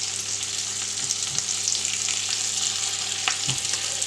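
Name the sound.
floured veal osso buco pieces browning in a pan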